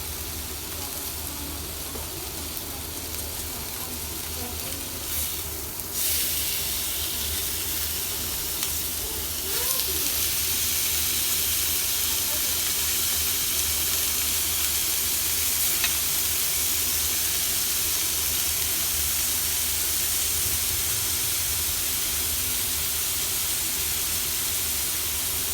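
Sous vide steak searing in a hot pan, giving a steady, broad sizzle and hiss that runs without a break, picks up a little around a third of the way through, and stays close and even with no talk over it.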